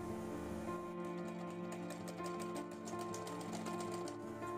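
Sewing machine stitching a fabric bow, a steady rapid mechanical whirr with fast regular clicks running throughout, close and moderately loud with no talking.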